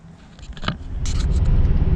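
A 1984 Monte Carlo SS pulls away, its engine rumble building steadily into a loud, close, continuous drone after a brief scraping burst early on.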